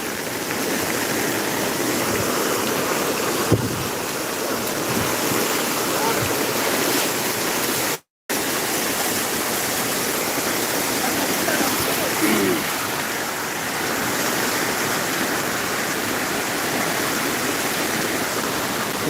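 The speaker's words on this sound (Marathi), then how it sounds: "प्रचंड मोठ्या प्रमाणात वाहत असलेले हे पाणी" A fast-flowing stream surges during heavy rain, a dense, loud, unbroken rush of water close by that continues for the whole stretch apart from one brief cut.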